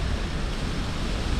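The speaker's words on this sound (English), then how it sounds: "The wind is gonna be iffy, but it's 15-20 mile an hour right now" Strong wind of 15 to 20 miles per hour buffeting a microphone outdoors, a dense, loud, continuous rumble and rush with no break.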